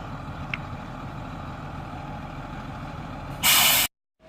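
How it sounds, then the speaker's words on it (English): A bus idles with a low rumble, then its air brakes release a loud, sharp hiss lasting about half a second before cutting off abruptly. "Hey, the bus arrived"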